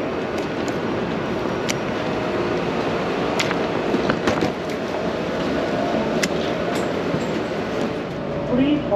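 An airport train at Washington Dulles International Airport departs, rumbling along its rails with a steady low roar and scattered clicks and rattles, loud and close from inside the car.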